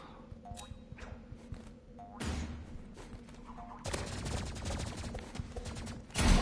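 Energy pistols firing in a Roblox multiplayer game, heard as repeated bursts of electronic gunfire that swell into a dense, continuous barrage ending in a loud burst, with no talking.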